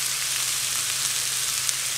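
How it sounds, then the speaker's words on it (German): Bell peppers and garlic fry in a pan with a steady, close, loud sizzle that hisses evenly throughout, with no voices. "sobald die Nudeln im Wasser sind, könnt ihr dann auch die Paprika in die Pfanne geben"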